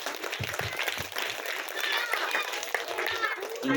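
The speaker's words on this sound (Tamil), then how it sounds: "பலத்த கரவோசை கொடுக்கலாம்" Applause for a fifth-standard student speaker at a school event, a dense, continuous wash of clapping from a gathered audience, steady and fairly loud throughout with faint voices mixed in.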